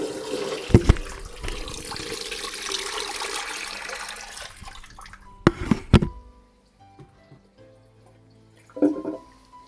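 Water is poured during a Catholic blessing of the water at a Mass, with splashing bursts and drips over room ambience, then a quieter stretch with a hum and a final short splash.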